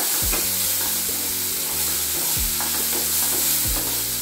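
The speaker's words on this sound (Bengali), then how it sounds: "চিংড়ি মাছটা যখন ভাজবেন তখন কিন্তু লক্ষ্য রাখবেন চিংড়ি মাছ বেশি ভেজে দেবেন না।" Prawns fry in a hot pan for a Bengali banana-flower curry, a loud close sizzle broken by repeated stirring scrapes that fall into a rough rhythm, with no talking.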